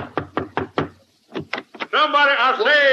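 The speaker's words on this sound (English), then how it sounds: "Well, let's knock." Four sharp knocks on a door from a radio sound effect, evenly spaced, then a pause and three more knocks; a voice comes in right after, speaking over the end.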